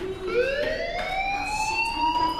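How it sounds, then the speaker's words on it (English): Fire alarm in the video game Life is Strange, a rising electronic wail that sweeps upward and repeats, moderately loud and heard alone. "Do you hear that fire alarm?"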